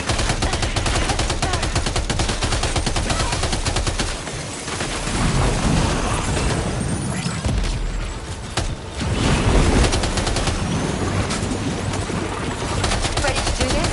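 Dense, continuous gunfire from the video game Death Stranding 2, with loud sustained bursts and rattling volleys that barely let up, and a brief lull partway through.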